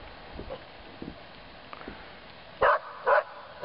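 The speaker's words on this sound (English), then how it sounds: "There are my barking dogs." Two loud, sharp barks from dogs at a snowy country home burst out in quick succession near the end, after faint scattered sounds.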